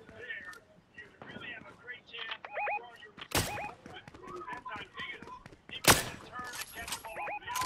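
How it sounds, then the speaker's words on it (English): Gunfire in the Fortnite video game, a few sharp loud shots standing out among clicks, thunks and in-game effects, with a voice talking quietly throughout. "There's gunfire coming from the northeast at 30."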